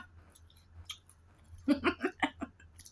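Someone chewing a snack with banana flesh in it, close to the mic, a short run of five or six moist, squishy chews after a quiet start.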